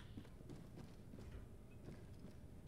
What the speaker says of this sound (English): And now I hear footsteps